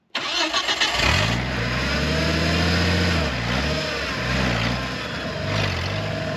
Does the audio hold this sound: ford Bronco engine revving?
yes